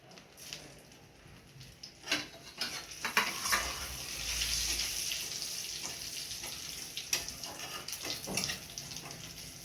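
Dry red chillies, cardamom pods and whole cumin frying in hot oil, a close crackling sizzle with stirring scrapes and pan knocks, rising and settling over several seconds.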